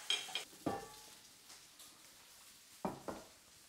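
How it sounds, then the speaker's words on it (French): Smoked pork belly meets a hot frying pan, giving soft sizzling and a few sharp clinks and scrapes of utensils against the pan, quiet and spaced out with gaps between. "poitrine fumée directement dans une poêle"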